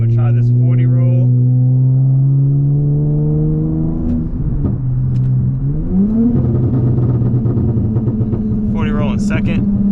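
A car with a drag-race transmission tune accelerates hard from a 40 mph roll, its engine drone loud and close, climbing steadily in pitch, dipping briefly at a shift, then pulling upward again.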